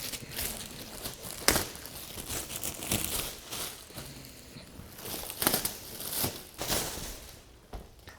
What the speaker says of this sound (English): let's start unwrapping stuff